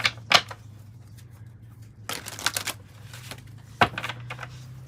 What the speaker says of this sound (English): let me give this one a little more of a shuffle too